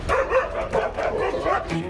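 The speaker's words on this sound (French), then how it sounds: "C'est un chien qui n'hésite pas à monter sur des murs pour aller mordre des gens." An aggressive Malinois barks in a rapid, continuous volley of sharp, loud barks close to the recording, with no talk over it.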